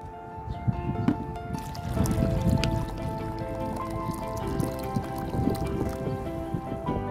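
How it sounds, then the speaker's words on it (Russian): Liquid sloshing and trickling as potassium monophosphate is stirred into a litre of water, continuous and close, with faint clinks. "хорошенько размешиваем."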